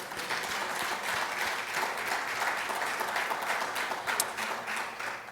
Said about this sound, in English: Can the brothers just clap for me one time?